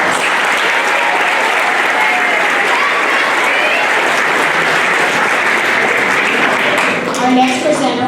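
A school auditorium audience gives sustained, dense applause for middle school students at an academic awards ceremony, steady and loud for about seven seconds before tapering off.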